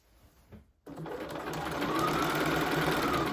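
A sewing machine stitches a blazer side seam through about four layers of fabric, starting after a short quiet moment and then running as a steady, close mechanical whir until the end.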